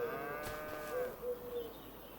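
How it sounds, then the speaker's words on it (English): A herd of about 120 cattle in the farming game Farming Simulator 25, on the Saxlingham map, gives a loud, close, drawn-out moo that wavers and fades, heard alone without talk. "I think we've got about 120 cows here."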